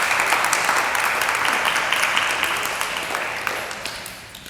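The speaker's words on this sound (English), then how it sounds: "First, a big applause for Penny." Audience applause for an artist at a conversation series in a gallery-like space, a dense steady patter of many hands that tapers off gradually near the end.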